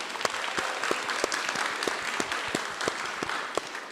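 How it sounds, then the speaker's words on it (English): An audience applauds a panel member at a wellbeing event, with steady dense clapping and sharper individual claps standing out over four seconds. "let's give a massive round of applause for Fern as well"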